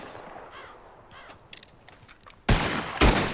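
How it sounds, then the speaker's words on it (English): Gunfire in Red Dead Redemption 2 as bottles are shot in a shooting contest: a quiet ambient stretch with faint bird calls, then two loud, sharp gunshots about half a second apart. "Whoever shoots more of these bottles wins."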